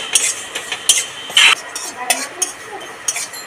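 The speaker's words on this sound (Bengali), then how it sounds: "জিরেটা নাড়াচাড়া দিয়ে একটুখানি ভেজে নেব।" Black cumin seeds scraped and stirred with a metal spatula in a hot, empty wok, a close series of irregular clinks and scrapes with a faint dry sizzle.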